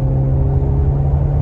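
A Maserati Grecale GT's two-litre engine runs in sport mode, a low, steady, gentle rumbling hum, close and continuous through the short stretch.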